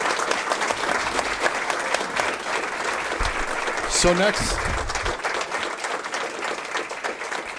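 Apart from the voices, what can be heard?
audience applause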